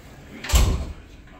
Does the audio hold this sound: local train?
no